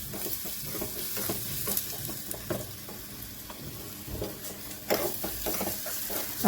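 Garlic-ginger paste sizzling in a tadka for whole masoor dal, a close crackling fry broken by repeated scraping stirs and spatter bursts, fairly quiet, with no talking.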